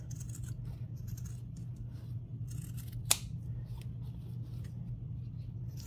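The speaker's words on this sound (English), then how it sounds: "So I can trim this a little bit closer." Scissors trim the fabric edge of an in-the-hoop embroidered zippered bag, giving faint snips and one sharp close cut over a low background hum, with no talking.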